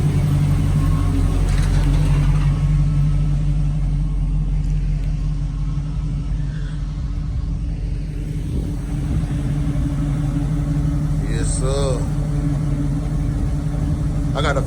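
A 1979 Monte Carlo engine warming up at idle, a steady, loud, low rumble with faint mechanical rattles throughout, and a brief higher squeal near the end.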